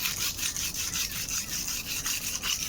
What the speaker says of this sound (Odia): ଏଠି ଛୁରୀ ଘଷୁଛି।